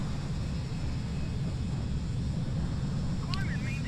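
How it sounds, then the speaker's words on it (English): United Express Embraer 175 airliner in a flight simulator game, a steady low engine rumble and broadband roar, continuous and fairly loud, heard from outside the aircraft. "We're in the United Express Embraer 175 tonight."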